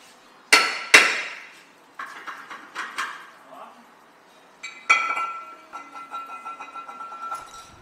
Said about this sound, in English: Next we're going to take the rotor off. Give it a couple smacks.